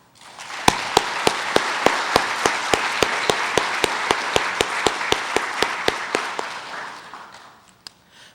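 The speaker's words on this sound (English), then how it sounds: "please give a warm round of applause to our city staff" Audience applause for city staff at a State of the City address: a steady clapping crowd with one sharp, evenly spaced clap beating through at a quick regular pace, then fading away near the end.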